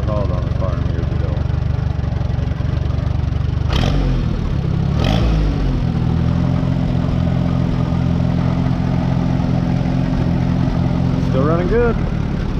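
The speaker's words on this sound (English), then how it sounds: "This was one of the very first tractors that I overhauled on the farm years ago." An Allis Chalmers CA tractor engine runs steadily nearby, a low clattering idle with two sharp knocks partway through, then a brief rise in tone near the end.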